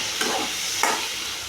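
Chicken pieces frying in a pan for chicken gravy, giving a steady broadband sizzle with two louder splattering surges as pieces are stirred or added, close and continuous without any talking.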